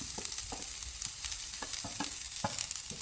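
Carrot, pumpkin, capsicum, tomato and spring onion sauté in a pan for a soya vegetable dumpling filling, with a steady close sizzle broken by soft scraping stirs throughout.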